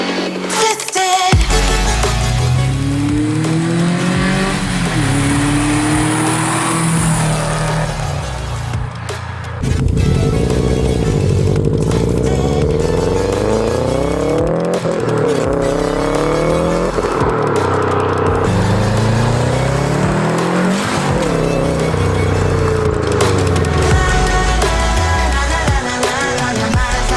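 Turbocharged Subaru STI car engine revving loud and close, pitch sweeping up and down in repeated pulls with short pauses and drops between revs.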